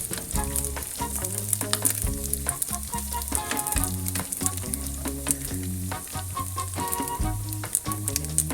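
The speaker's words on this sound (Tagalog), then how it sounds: "ipiprito natin para may uminit na rin yung leftover chicken arrosto natin" Leftover roast chicken fries in oil in a pan, a steady close sizzle and crackle that runs throughout, with music playing alongside.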